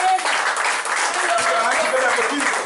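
A church congregation clapping for Jesus at an all-night deliverance and healing service, a dense steady burst of clapping with voices mixed in.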